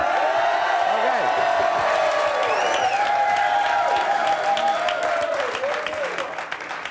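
A television talk-show studio audience applauds loudly and steadily for about seven seconds, with whoops and cheers mixed into the clapping before it starts to fade.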